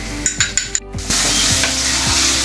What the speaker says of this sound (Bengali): এবার পেঁয়াজটা ভাজা ভাজা হয়ে গেছে